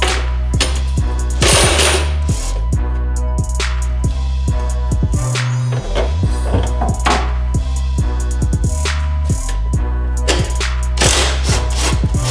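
A ratchet wrench undoing strut bolts on a car, loud rapid clicking up close in continuous bursts with a brief pause midway.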